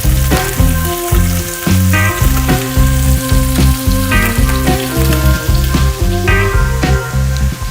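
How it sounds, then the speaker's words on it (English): Sweetbreads sizzle and fry steadily in a disc plow pan, a dense continuous crackle with scattered pops and lower musical tones running underneath throughout. "get your sweetbread into the pan and golden it up on each side for around 10 minutes"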